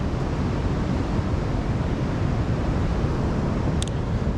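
Sea waves wash onto a sandy beach at low tide on a calmer day after a storm, a steady broadband roar of surf with wind noise, constant and fairly loud throughout.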